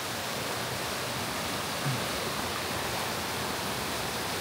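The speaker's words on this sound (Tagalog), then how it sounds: "Lakas ng agos." Strong current of flowing water at Grasmere in the Lake District, a steady, dense rush that fills the whole clip at an even level with no voices.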